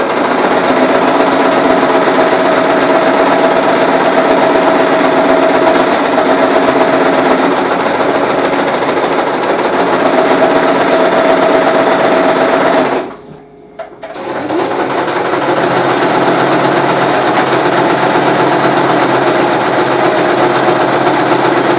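A sewing machine stitches fabric for a medieval cloak, its steady loud whirring running almost without break and stopping briefly partway through before starting again.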